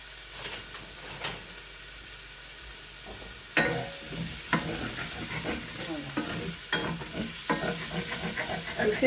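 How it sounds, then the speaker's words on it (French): Onions frying in a spiced vegetable mixture for a vegetable handi, stirred with a wooden spoon: a steady close sizzle and hiss with repeated scraping strokes and soft knocks against the pan, no talk. "je vais laisser griller, colorier mon oignon correctement"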